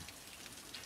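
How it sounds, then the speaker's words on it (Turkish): Rain falling on an outdoor beachside setting, a steady soft patter of drops with a faint, even hiss and no voices. "yağmur başladı"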